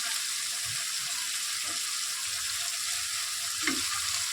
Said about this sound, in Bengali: এদিকে আমার চিংড়ি মাছটা ভাজা হয়ে গেছে